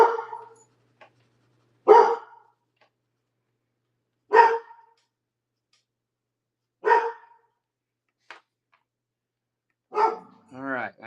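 A dog barks in single sharp, fairly close woofs spaced a few seconds apart, about five in all, with quiet gaps between them.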